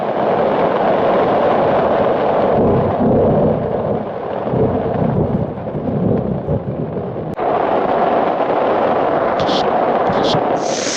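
Thunder rolling through a storm on a Continental Divide Trail hike, a loud, long rumbling roar that fills the stretch, briefly easing then swelling again, with faint high sounds near the end.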